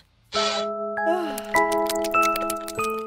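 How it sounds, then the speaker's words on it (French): An alarm clock ringing with a bright, chime-like melody of sustained tones that step up and down in quick succession, loud and close after a brief burst of noise. "Le réveil!"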